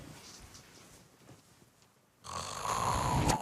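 Snoring heard alone: quiet breathing at first, then a louder, rough rasping snore in the final second or so.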